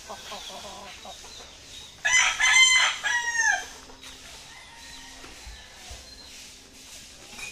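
A chicken clucks softly in a rural yard before a rooster lets out a loud, close cock-a-doodle-doo crow of about two seconds, followed by more quiet clucking and background sounds.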